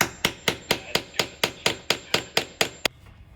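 A hammer strikes repeatedly during a thrift-flip dress project, about eleven sharp, evenly spaced blows close by, each ringing briefly before the next, then stopping abruptly with quiet room tone after.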